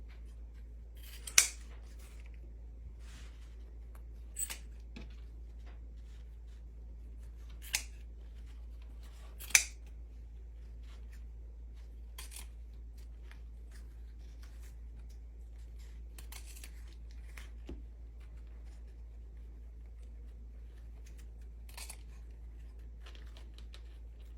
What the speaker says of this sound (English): I just fold these ribbons over wire to wire and cut on a diagonal